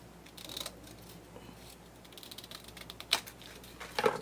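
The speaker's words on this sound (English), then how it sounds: "Point my scissors up there" Scissors cut with a few sharp, separate snips spaced a second or more apart over a quiet background, close and clear, with no talking.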